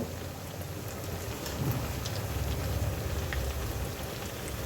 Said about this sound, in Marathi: आपण हा आता दुसरा बॅच तळून राहिलेला आहो